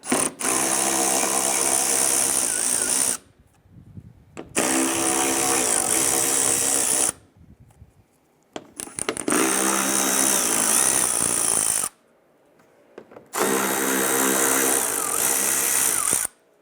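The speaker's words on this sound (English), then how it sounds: "we're going to use our 10mm socket, and we're going to remove these here." A power tool fitted with a 10mm socket whirs in several loud bursts of a few seconds each while removing taillight screws on a 2012-2017 Toyota Camry, with quieter gaps between the runs.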